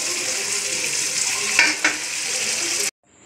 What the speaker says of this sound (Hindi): अब इसको ज़रा 2 मिनट के लिए, 5 मिनट के लिए मैं भून लूँगी